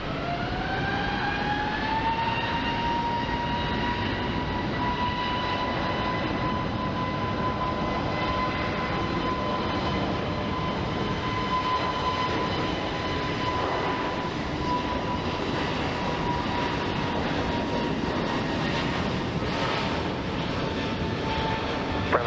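A jet airliner at Phoenix Sky Harbor International Airport roars steadily on its takeoff run, a loud sustained engine rumble with a rising whine that holds for the whole stretch, with no talk over it.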